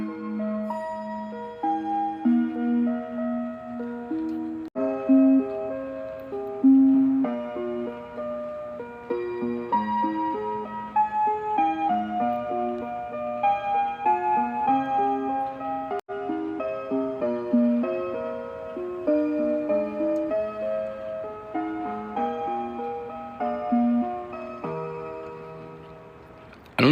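DWS Timecracker rhythm clock in a clock shop, playing a run of bright melodic chime tones in an even rhythm over a soft ticking, clear and close with no voices.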